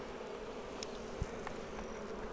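Honey bees on a hive frame drone in a steady, low, continuous buzz, close and even throughout, with a few brief sharper buzzes passing near.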